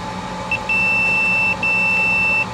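A multimeter continuity tester gives two steady electronic beeps, each about a second long with a short gap between, during probing of a Vizio 4K TV mainboard (M75-C1).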